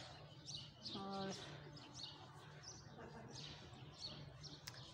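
Small birds twittering while perched on an overhead wire above a rooftop, a busy flurry of high chirps scattered throughout against steady low background hum, with one brief clearer call standing out.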